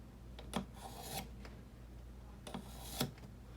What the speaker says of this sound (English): So speaking of hone, we'll use the honer. We'll give it 5 passes.